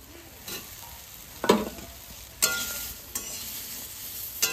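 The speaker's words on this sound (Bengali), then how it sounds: "এবার সুন্দর করে কষাবো, আবার একটু তেলও দেবো" Spices, tomato and oil being sautéed in a pan: a steady close sizzle with a few louder bursts of stirring scrapes, no voices.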